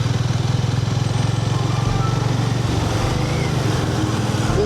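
Harley-Davidson motorcycle riding onto the NH 143 highway, a loud, steady engine rumble with a fast regular pulse throughout, heard close under rushing wind.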